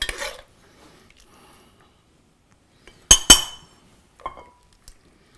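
Short, bright clinks of a utensil against a cast iron pan as braised short ribs are served, two sharp clustered strikes in the middle with a few fainter taps around them, in an otherwise quiet kitchen.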